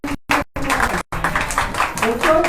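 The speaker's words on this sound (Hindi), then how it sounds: "तालियों के द्वारा" A congregation claps during a church praise service, a dense, steady patter of many hands with brief cuts early on and a voice faintly beneath.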